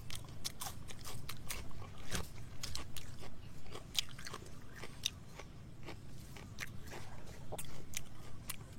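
Cooked lotus stem bitten and chewed close up, a long run of sharp, irregular crunches with a steady rhythm over quiet background hum, no talk.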